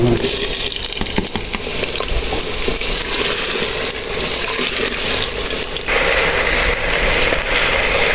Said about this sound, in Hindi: अब हम इसमें आलू और बैंगन मिक्स इकट्ठे डाल देंगे।